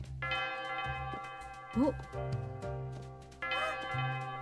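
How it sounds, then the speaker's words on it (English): A bell chimes in the video game Princess Peach: Showtime!, sounding over bright, sustained tonal game music. One rising ringing tone stands out near the middle, a brief voice exclaims, and a fainter ring comes near the end. "That bell. It's going to start soon."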